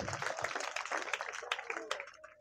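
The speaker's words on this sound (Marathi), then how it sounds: "जोरदार टाळ्या होऊन जाऊ द्या" A live audience at a hypnotism stage show in Ichalkaranji claps in dense, sustained applause that gradually fades over a couple of seconds.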